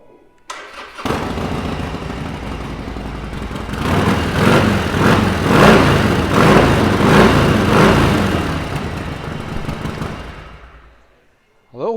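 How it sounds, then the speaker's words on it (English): A 2016 Harley-Davidson XL1200 Sportster Superlow motorcycle cranks and fires up, then runs loud and close with a rough, pulsing V-twin beat and several throttle blips before cutting off near the end. "I'll give it a start up so we can hear the noise."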